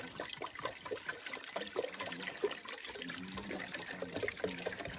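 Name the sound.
water filling a cooking pot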